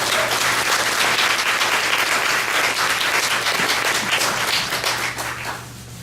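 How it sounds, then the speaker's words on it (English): Audience applause for a speaker at a race talks event, steady dense clapping from a roomful of people that carries on evenly before tapering off at the end. "So give her another round of applause."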